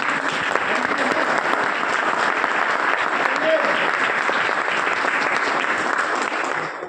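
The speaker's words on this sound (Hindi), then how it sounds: "यार तालियां तो बजती है ना" Sustained applause from an audience at a health workshop in India, steady dense clapping filling the room for several seconds before tapering slightly at the end.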